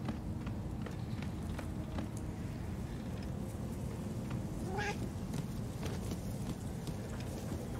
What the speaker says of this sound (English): I do love how they've done the cats in this, they sound so adorable.